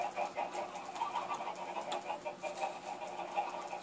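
Chickens on a Minecraft chicken farm cluck and squawk repeatedly in a soft, busy chorus at moderate distance, with no talk.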